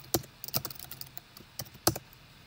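Keys tap on a computer keyboard in a short, uneven run of soft, close clicks against a quiet background.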